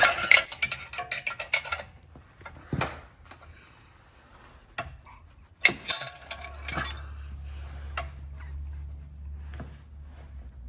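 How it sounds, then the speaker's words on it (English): A wrench is tightening winch mounting bolts on a Jeep Wrangler, giving bursts of close metallic clicks and clanks, a few sharp knocks, then a low steady hum. "So I'm just going to go ahead and place a wrench on it and double it up."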